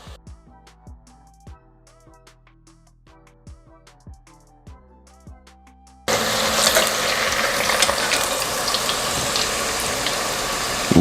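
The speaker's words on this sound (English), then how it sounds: "we're going to let these fry until crispy and golden brown" Potato french fries bubble in hot oil, a loud, steady sizzling roar that sets in abruptly after a stretch of soft plucked music.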